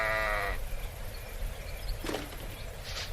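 Sheep bleating at a sheep farm in the video game The Patrician III: a clear bleat opens over a low ambient game hum, followed by a couple of faint short calls and a soft rustle.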